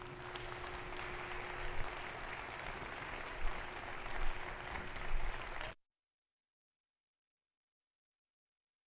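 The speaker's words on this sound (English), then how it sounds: "How about one more round of applause for Dr. Penny Jennings, everyone?" An audience at a nonprofit leadership summit applauds after a talk, a steady close wash of clapping with a few louder swells before it cuts off abruptly into silence.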